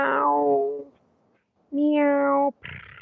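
Week-old kittens meow in two drawn-out, wavering cries with a short pause between, loud and close, followed by a brief noisy rustle at the end.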